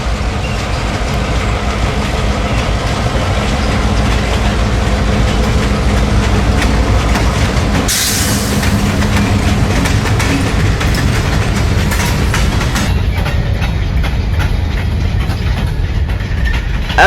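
Coke train L575 passing southbound, led by a Grand Trunk Jeep locomotive, with a loud, steady rumble and clattering wheel clicks over the rails throughout, a brief sharp burst midway and a high squeal near the end.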